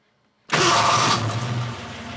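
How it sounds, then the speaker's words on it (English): A car engine cranks and catches after a brief silence, then settles into a steady, loud idle close by. "close the hood, turn the car on,"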